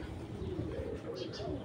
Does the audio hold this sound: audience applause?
no